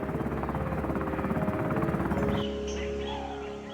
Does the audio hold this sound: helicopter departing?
yes